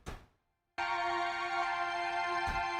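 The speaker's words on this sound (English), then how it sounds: "this is like a Mellotron sound from Omnisphere" A Mellotron-style patch from Omnisphere enters after a brief soft hit and near-silence, holding one steady, bright sustained keyboard tone at even loudness with a faint thump near the end.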